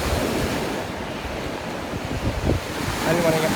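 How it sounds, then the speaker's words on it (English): Atlantic Ocean surf rolling onto an Alabama beach, a steady close wash of breaking waves with gusts of wind buffeting the microphone throughout. "Marsha, you are now in the Atlantic Ocean and the Pacific"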